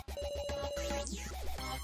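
A phone ringtone plays in the video game Your Turn To Die: a sustained electronic tone over a pulsing rhythmic beat, then a sweeping, chaotic musical flourish, loud and close with no voices.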